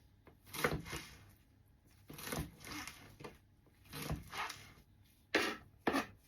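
A knife slices through washed wild garlic stalks on a cutting board in short, close bursts of crisp cutting, separated by brief pauses.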